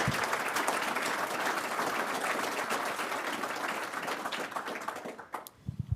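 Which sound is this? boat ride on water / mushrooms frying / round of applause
round of applause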